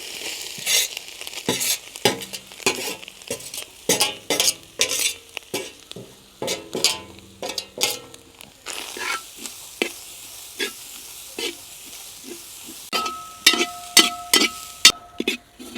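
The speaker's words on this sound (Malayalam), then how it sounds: "അപ്പോൾ ഇതിലേക്ക് ഇനി നമുക്ക് തേങ്ങ ഇട്ട് കൊടുക്കാം" Grated coconut fries in ghee in a pan, with a steady sizzle under repeated scraping stirring strokes, loud and close with brief pauses between them.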